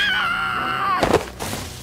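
A woman screams sharply in a Filipino horror audio drama about an aswang tribe, a sustained high wail that breaks off into harsh, noisy bursts and a clattering crash.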